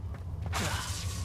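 Bombarda blasting spell cast in Hogwarts Legacy, a short, loud shattering crack with a crumbling, mechanical rattle over a steady low hum.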